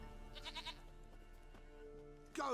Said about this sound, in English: We brought the goat back,